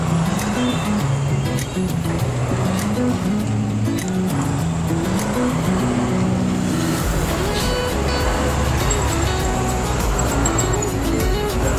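Steady street traffic in Sugod, Southern Leyte, with car and motorcycle engines rumbling and idling close by, a continuous loud roadway drone with occasional revving and passing vehicles throughout.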